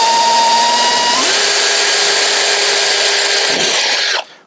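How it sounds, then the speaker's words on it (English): A power drill on a light torque setting runs at a high steady whine while drilling through a fixing on a Land Rover Defender rear door, dropping pitch once under load, then cutting off abruptly near the end. "The best I can do now is try and drill through one of these"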